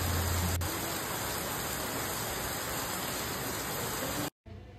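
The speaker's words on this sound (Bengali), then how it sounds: "আবার কিরকম বৃষ্টি নেমেছে দেখো" A dense, steady wash of heavy rain hisses without pause, close and loud, then cuts off abruptly near the end.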